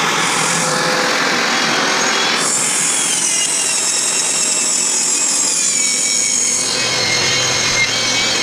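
Power saw cutting a live edge wood slab for a shoe rack bench, a loud continuous rasping cut that runs steadily throughout and shifts in tone partway through.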